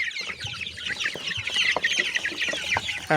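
Chickens cluck steadily and close by, a dense chorus of short clucks and calls with a few sharper squawks near the end.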